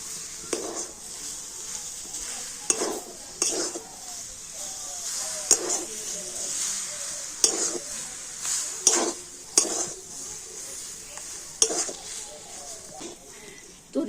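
A spoon stirs a dry roll filling of powdered sugar and chopped coriander in a pan, producing repeated sharp scraping clicks at irregular intervals over a soft background hiss.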